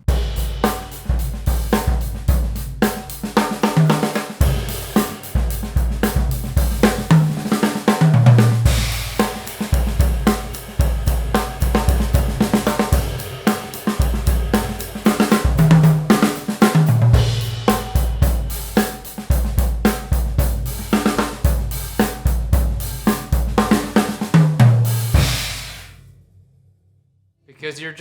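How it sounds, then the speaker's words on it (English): A drum kit played with the snares switched off, a steady groove of low, booming tom hits in a repeating rhythm, loud and close, running throughout before stopping abruptly near the end. "I'm gonna focus on just the toms with no snare sounds."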